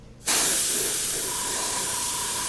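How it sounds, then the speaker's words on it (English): An airbrush blows air over a Jordan 3 sneaker midsole to dry the paint, a sudden close hiss that starts abruptly and then holds steady. "I'm just kind of throwing some air on it just to get it to dry"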